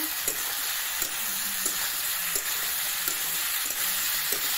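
Cumin powder and chili sizzle steadily in a hot pan while being stirred, giving a continuous loud frying hiss broken by soft, regular scraping strokes of the spoon, with no talking.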